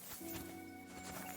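Horse in Kingdom Come Deliverance 2, a short snort or whinny with faint hoof movement, close and moderately quiet over a low ambient game background.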